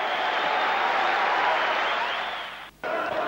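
A boxing arena crowd watching Joe Calzaghe fight Chris Eubank applauds and cheers in a loud, sustained roar that dips briefly near the end before surging back.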